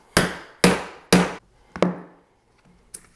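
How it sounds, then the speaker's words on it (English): Five metal-on-metal hammer blows on an old bearing race, driving a differential bearing fully onto its seat in a squarebody truck rear axle; three hard evenly spaced strikes, then two lighter taps, close and ringing. "just hit the outside of the bearing the rest of the way down to get it completely seated"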